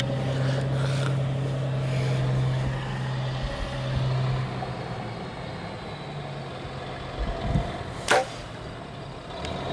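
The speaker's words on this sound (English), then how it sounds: "Oh, we got a truck coming." A truck rolls past on a rural road in North Dakota public land during a deer hunt, a low engine rumble building and fading in the open air, with a sharp clunk near the end.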